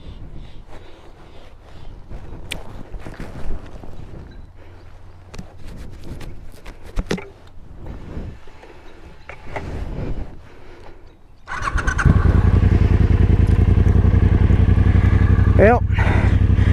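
A Triumph Bobber Icon motorcycle engine fires up around twelve seconds in and settles into a loud, steady idle close by, after a stretch of softer handling and movement noises.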